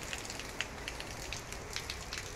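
Steady rain falling outdoors during a walk, a constant soft hiss with scattered patters of drops, heard alone without talk.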